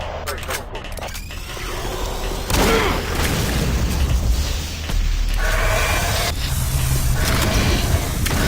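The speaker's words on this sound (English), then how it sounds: "throw a grenade at him" In Doom 3: Phobos, a grenade goes off with a heavy, booming blast, followed by a second rumbling burst, over continuous game ambience and mechanical noise.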